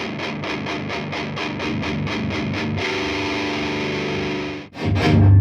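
A thick, distorted electric guitar through a Marshall JCM900 tube amplifier chugs out rapid repeated notes, then holds a sustained roaring chord before a brief pause and another heavy strum.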